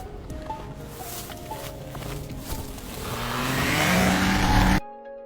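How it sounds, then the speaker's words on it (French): A motorcycle engine accelerates amid a forest ambience, its roar building steadily from low rumble to a loud sustained peak before cutting off abruptly, with scattered rustling and small sounds early on. "la moto qui accélère"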